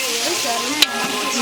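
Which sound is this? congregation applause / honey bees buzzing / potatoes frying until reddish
potatoes frying until reddish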